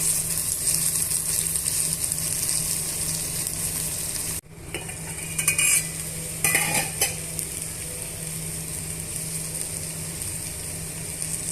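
Curry with garam masala powder, tomato pieces and brinjal cooking in a pan: a steady background sizzle with a sudden break, then a few clattering spoon strokes against the pan, close and moderately quiet.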